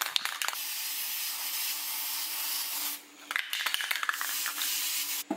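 Spray paint hisses from an aerosol can in long continuous bursts aimed at an object, close and steady, broken by a brief pause and short spurts near the end.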